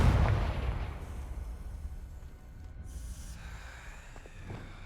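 A Confringo blasting curse from the Hogwarts Legacy video game erupts in a loud, booming blast at the very start, then fades into a long rumbling decay and scattered crackles.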